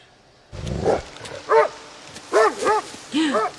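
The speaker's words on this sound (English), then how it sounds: "Another animal? Oh no, dog." Dog barking in a scene from The Walking Dead, several distinct barks in pairs at a steady pace after a short rustle, close and fairly loud.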